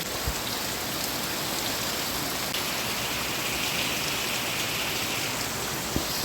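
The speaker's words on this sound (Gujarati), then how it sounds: "એટલે વરસાદ આવે છે." Steady rain pours over a flooded farm field, a dense even hiss of drops on the surface with a couple of brief louder taps, close and continuous with no voices.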